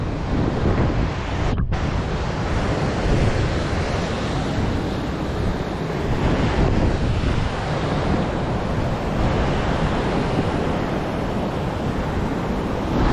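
Strong wind by the water at Svartisen, a loud continuous roar of gusts buffeting the microphone over surging waves, steady throughout with no voices.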